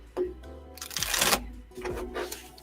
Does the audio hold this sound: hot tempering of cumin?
no